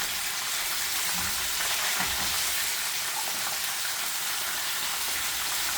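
Chicken fries crispy in oil, a dense, even crackling sizzle that holds steady throughout at moderate level, close by with no talk.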